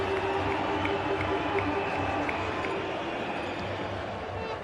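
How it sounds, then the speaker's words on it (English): A crowd in the cricket video game Brian Lara International Cricket 07 claps politely and steadily as a batsman walks off, a soft wash of applause with murmuring, held at a distance under a broad, noisy ambience. "He's getting a polite round of applause as he makes his way to the pavilion."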